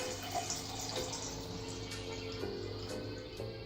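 Liquid is poured from one cup into another, a faint trickling splash heard under quiet room tone with soft clinks.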